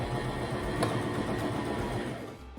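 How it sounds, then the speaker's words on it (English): A sewing machine back stitches a short run on old denim, giving a steady, continuous mechanical whir at close range with no talking. "I'm gonna back stitch a little bit to lock it."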